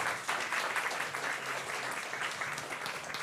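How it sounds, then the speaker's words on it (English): Applause rises from the audience at a GraphQL tech meetup, a fairly quiet, steady patter of clapping from a modest crowd lasting a few seconds with no speech over it. "So one more round of applause for team."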